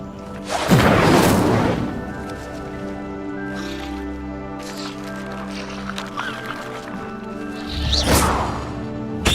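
In Hogwarts Legacy the Incendio fire spell goes off as two loud whooshing bursts of flame, one at the start and one near the end, with a sustained musical drone between them.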